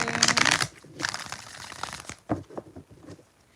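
A deck of tarot cards is shuffled in quick, papery bursts, with a riffle near the start, another around the middle and a few softer flicks toward the end, close and fairly quiet.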